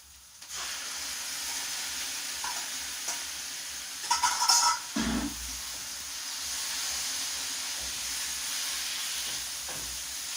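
Marinated goat kidneys stir-fry in a hot pan for a Filipino adobo, with steady close sizzling, a brief clatter of stirring midway and a burst of hissing steam, then the frying settles back into an even crackle.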